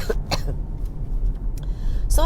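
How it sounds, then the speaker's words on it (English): A couple of short coughs or throat-clearing sounds, close by, over a low background rumble. "Another cough."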